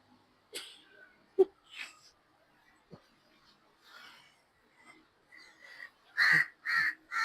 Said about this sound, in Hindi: एक तो यार ये कौवे ने मुझे तंग किया हुआ है।